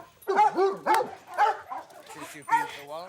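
A dog greets its owner at an airport reunion, giving excited whimpering yips and harmonic whines in a run of close, loud bursts, with a voice talking between them.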